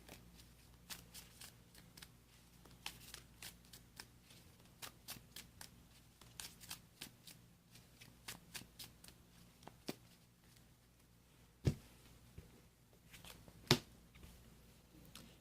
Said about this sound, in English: We'll shuffle that back up.